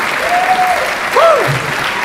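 Applause from the audience at a comedy roast, a thick steady wash of clapping with a few whoops and cheers rising above it, close and loud.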